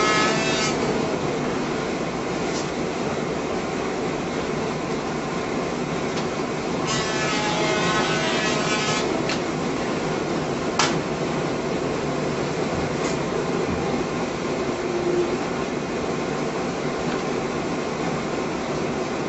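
A CRB-160 cover creaser and BQ-160 PUR perfect binder run continuously with a steady mechanical hum, broken by occasional clacks and a short rattling burst of feeding and clamping.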